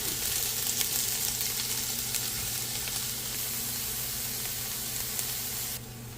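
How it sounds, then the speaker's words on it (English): Onions sautéing in a hot pan for a pastel filling give a steady, even sizzle. It holds close and continuous, then drops a little softer near the end. "you're gonna go in with your onions, and you're gonna allow this to cook for a couple minutes and saute"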